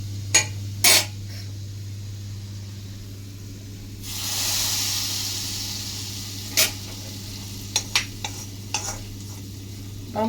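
Hot coconut oil with chili powder is poured into a clay pot for a coconut milk fish curry, bursting into a loud hissing sizzle midway, with sharp clinks and stirring knocks before and after.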